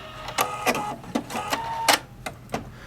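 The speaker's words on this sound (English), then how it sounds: "you start sewing, the first thing the machine's going to do is it's going to lock your stitch for you automatically" Viking Opal 670 sewing machine making short bursts of stitching, several quick mechanical whirs and clicks spaced irregularly, close and moderately loud.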